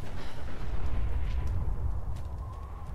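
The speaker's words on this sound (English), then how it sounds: "the explosion is like, you know, nuclear explosion, but in a robot" A robot's nuclear-style explosion in Fallout 4 roars as a heavy, sustained low rumble with a broad burst of noise, loud at first and slowly fading over a few seconds.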